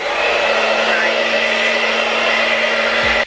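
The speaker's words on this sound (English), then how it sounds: "And then I'm gonna take my blow dryer. I'm gonna put it on warm." A blow dryer on the warm setting runs steadily while drying hair, a loud continuous close-up whoosh and motor whine that holds evenly throughout.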